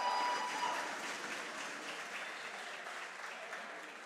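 Steady applause from a crowd at the Eurobot 2024 robotics competition finals, fairly loud at first and tapering slightly, continuous clapping throughout.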